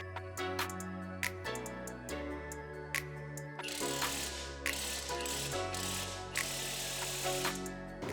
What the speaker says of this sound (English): So I'm using a T40 with a 21 wrench.